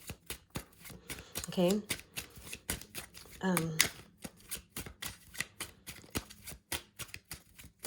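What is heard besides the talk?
shuffling tarot cards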